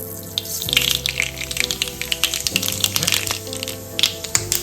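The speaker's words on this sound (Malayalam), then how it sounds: "കടുകോടെ കിടന്നിട്ട് പൊട്ടട്ടെ" Mustard seeds spluttering and popping in hot coconut oil in a pan, a steady crackling sizzle with sharp pops scattered throughout, close and fairly loud, no voices.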